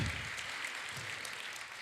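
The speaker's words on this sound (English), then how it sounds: "that's nice, you're clapping for her" Applause from an audience for an 11-year-old girl's birthday: dense, steady clapping that carries evenly through the whole short stretch.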